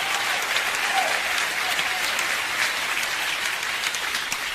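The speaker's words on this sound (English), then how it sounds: "Yeah, you can clap for them. Clap for them." Comedy club audience applauding and clapping in a steady, dense wash of handclaps that holds at an even level throughout, with no talk over it.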